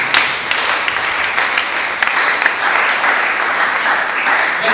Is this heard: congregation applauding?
yes